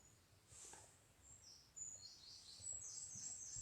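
Woodland birds call from a red squirrel hide, with faint, high chirps and tweets scattered through a soft outdoor background. The calls grow slightly busier toward the end, and no one speaks.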